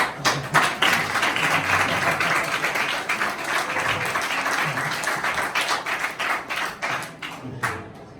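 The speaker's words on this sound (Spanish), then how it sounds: "Entonces, señores, denme un aplauso a Jochi Herrera." An audience at a book fair talk claps in a dense, lively burst of applause, strong and sustained before tapering off toward the end.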